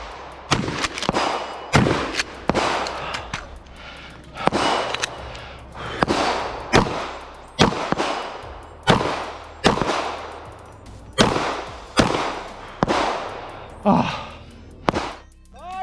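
Shotgun blasts at clay targets in a practical shooting match ring out as a long series of loud, sharp reports, fired in quick pairs and singles with short gaps between them.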